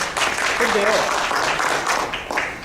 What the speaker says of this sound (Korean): 우리 교수님 박수 한번 드리겠습니다